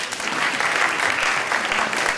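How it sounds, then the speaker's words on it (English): Applause at an academic conference panel after two speakers finish, a brief steady patter of many hands from a seated audience, fairly loud and uninterrupted. "It's okay to clap."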